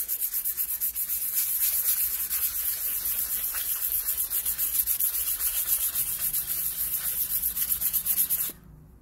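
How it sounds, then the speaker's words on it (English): Rusty iron is hand-sanded with 800 grit sandpaper, giving a steady, close scratchy rasp of rapid back-and-forth strokes that continues for several seconds before stopping abruptly. "I got some 800 grit sandpaper. I'm going to do a quick sand on it."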